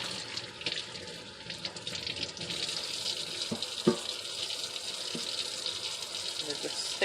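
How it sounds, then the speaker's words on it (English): A kitchen tap runs cold water over salt-covered food in a sink, a steady close splashing gush with brief clatters, and people talk over it. "we're just going to run it under some cold water just to get some of it off"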